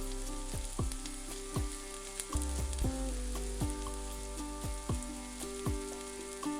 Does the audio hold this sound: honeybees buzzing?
no